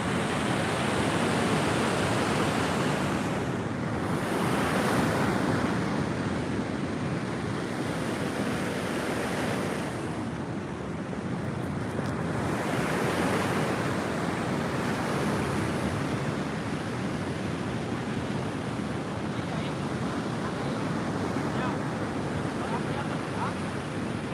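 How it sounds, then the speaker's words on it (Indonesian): Ocean waves wash onto a beach in a steady, loud roar, with surges swelling and easing every few seconds and wind buffeting the microphone throughout. "Ombak."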